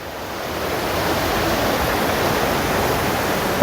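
Steady rushing water from a waterfall in Ob Khan National Park, Chiang Mai, a continuous broadband roar at even loudness throughout, heard fairly close with no voices.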